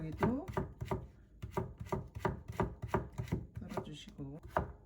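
A knife chopping cucumber on a cutting board while preparing a home-cooked Korean meal, about a dozen crisp, evenly paced thuds, close and distinct, with a voice murmuring faintly in between.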